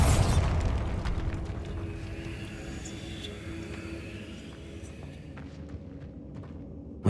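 A Bombarda spell blast in Hogwarts Legacy: a loud boom at the start that decays into a long rumbling tail.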